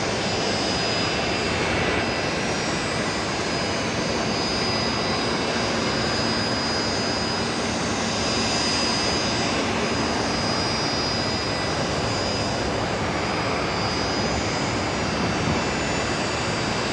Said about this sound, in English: Air Callan, the 320 Neo, that beautiful livery, just taxiing along Bravo there, going up to the international terminal